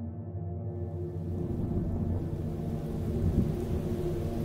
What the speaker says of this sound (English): The wind is howling. The rain is pelting.